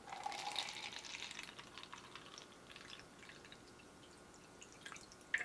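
Water dripping through an Amazon Basics filter pitcher: faint, quiet trickling and small drips in a still room, ending with a sharper drip near the close.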